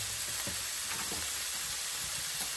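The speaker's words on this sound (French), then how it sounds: "Et là, on mélange bien. Écoutez-moi ce crépitement." Crozets with lardons and onions sizzle in a cast iron pan, a dense steady crackle and hiss with soft scrapes as a wooden spoon stirs them.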